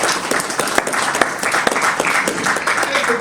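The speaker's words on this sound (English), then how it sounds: "A round of applause." Steady applause from a crowd, dense clapping throughout with a few sharper claps standing out, fairly loud and continuous.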